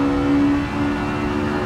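A V12 engine, the kind shared with the Ferrari 599 GTO, holds a steady, loud drone with a sustained tonal whine in a 1960s Riverside 200 sports car race in a racing video game, with no pauses and no talk.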